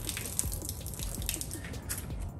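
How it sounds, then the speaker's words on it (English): Water running through the hose of a Grandfalls pressure washer before it is switched on, a continuous gurgling, splashing flow with small drips, close and steady, with no voices. "make sure the water flows all the way through all of the hose"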